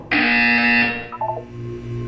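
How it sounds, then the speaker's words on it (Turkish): Buzzer in the Portal 2 video game, one loud harsh electronic tone lasting just under a second and then cutting off abruptly, followed by faint tonal chimes and a low hum. "You will hear a buzzer. When you hear the buzzer, look down at the floor."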